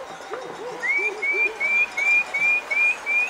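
A shepherd's series of about seven short rising whistles repeat at a steady pace, clear and fairly close, after a few low muffled sounds at the start.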